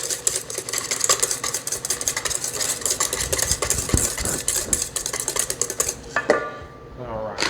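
A spoon stirs sugar into a pie filling mixture in a bowl, giving steady scraping and clinking for about six seconds before it stops. The sound is close and continuous.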